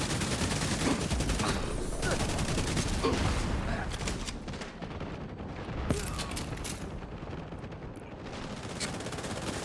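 Video-game gunfire keeps up in dense, overlapping bursts like a fusillade through most of the span, loud and continuous, with brief lulls. No one talks.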